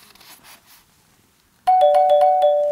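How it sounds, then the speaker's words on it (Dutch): After a nearly silent moment, a doorbell suddenly chimes, a loud clear electronic ring with a few quick repeated pulses that sustain to the end. "Dat is de bel."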